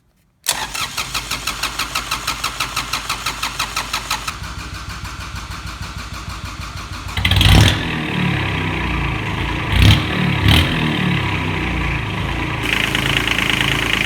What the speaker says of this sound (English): we're going to do a cold start without glow plugs